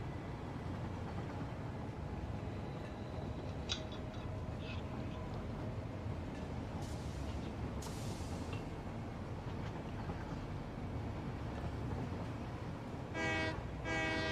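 In the factory-building game Satisfactory, a train rumbles steadily along its track, with a horn blast near the end and a few clanks over the low running noise.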